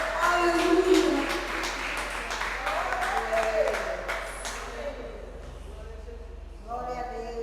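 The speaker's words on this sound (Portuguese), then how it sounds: "Agora você aplaude esse Deus por todo o louvor" A church congregation applauds together, a dense wash of many hands clapping with voices mixed in, steady and fairly loud before easing off near the end as a singing or speaking voice rises.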